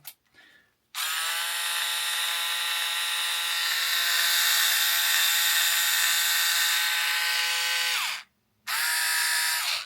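A Black and Decker 6V handheld screwdriver runs with a steady high-pitched whine, starting after a brief pause, holding for several seconds, then stopping before a short second burst.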